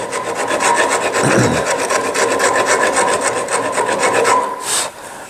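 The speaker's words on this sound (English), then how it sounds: "Now the trick with a rasp is to make sure you don't, well, one, on something like rosewood, you want to make sure you don't chip the wood" A rasp files across the rosewood body of a guitar in steady back-and-forth strokes, a loud, close, gritty scraping with a regular rhythm that stops briefly near the end.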